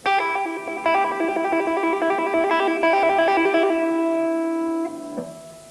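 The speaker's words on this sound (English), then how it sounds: "These sound quite good on open strings," One-handed electric guitar trills on open strings, a steady stream of quick alternating notes ringing loud and close for about five seconds before fading with a final pluck.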